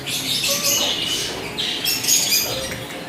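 Small colourful pet birds at an exotic animal shop in Kolathur chirp and call repeatedly in bright, overlapping bursts, fairly close and steady throughout without speech.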